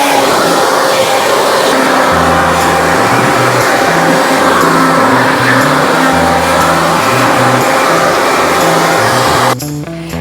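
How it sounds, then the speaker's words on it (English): A blower blasts debris out of a car interior after a vacation, a loud steady whooshing roar that holds nearly unbroken for about nine seconds before cutting off abruptly near the end. "all you're going to do is you are just going to blow the stuff out of the car"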